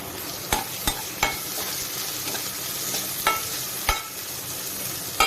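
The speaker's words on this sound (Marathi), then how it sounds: "छान आपली फोडणी अगदी खरपूस अशी भाजून झालेली आहे" Spice tempering of green coriander and turmeric sizzling in a pan for Konkani-style cumin-coconut dal, a steady close frying hiss broken by sharp clicks of a spoon stirring.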